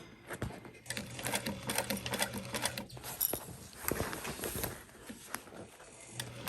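Sewing machine stitching a fabric backpack, rapid close mechanical needle chatter in uneven bursts with brief pauses.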